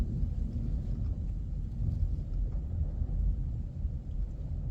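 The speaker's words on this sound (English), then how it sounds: "Can you hear the thunder?" Distant thunder rolls in as a low, continuous rumble, steady and unbroken, with no voices over it.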